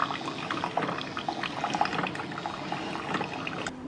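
A Keurig 2.0 K525 Plus single-serve coffee maker brewing, giving a steady bubbling, gurgling hiss of hot water, with liquid trickling into a cup close by.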